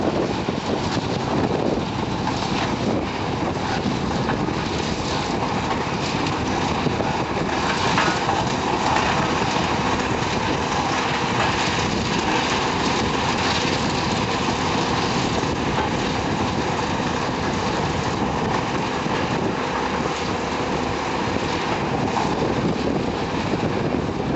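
A diesel-powered stone crusher machine grinding limestone at a bridge construction site, a loud, continuous broadband roar and rumble that stays steady throughout without pause.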